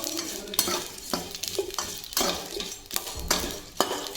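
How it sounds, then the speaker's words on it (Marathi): Rampatri spice dry-roasting in a pan, a rhythmic series of scraping, rattling strokes as it is stirred and tossed, each stroke loud and close with short pauses between. "नंतर ही रामपत्ती भाजते मी आता."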